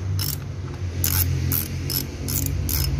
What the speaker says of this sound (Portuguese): Tem uma chave catraca, então vamos lá